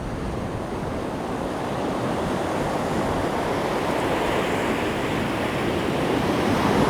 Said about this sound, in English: I'm waiting for that incoming surf just to puddle around all those rocks.